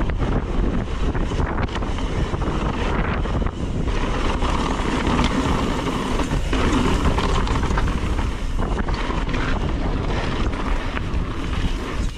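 Strong wind roars continuously against the microphone during a fast mountain bike descent along a cliff edge, loud and buffeting throughout with no voices.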